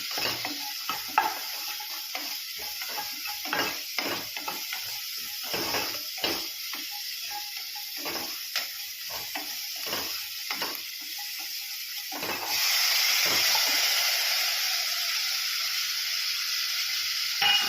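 Onions sautéing with salt in a pan for a samai (little millet) rice kichadi, with a spoon rapidly scraping and stirring over a continuous sizzle that swells louder and steadier toward the end.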